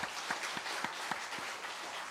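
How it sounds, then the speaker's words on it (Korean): Congregation applauding during a Sunday worship service at Daejeon Full Gospel Church, a steady wash of clapping with faint rhythmic accents running throughout, moderately loud and without talk. "하나님께 영광의 박수 올려드립니다"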